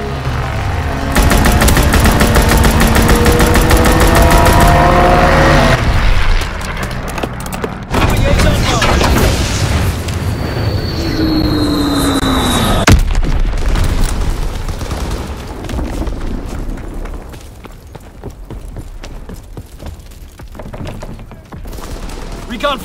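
Aircraft strafing run in the World War II shooter game Call of Duty WWII, with dense bursts of rapid gunfire, heavy booms and swooping engine tones, loud and close, mixed with in-game voices.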